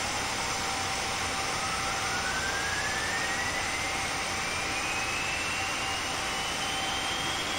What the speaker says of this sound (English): if I start engine number 1 here, the external sounds are much better